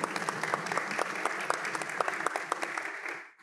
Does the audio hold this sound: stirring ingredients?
no